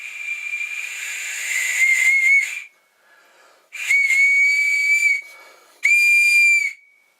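Survival whistle blown hard in three long, shrill, piercing blasts with breathy hiss, loud and close, separated by brief pauses with no talking.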